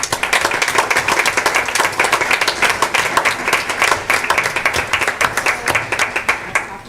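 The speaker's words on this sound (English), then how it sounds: "So let's give them a round of applause" A board meeting audience applauds GISA, dense continuous clapping from many hands, loud and close, sustained evenly throughout without voices on top.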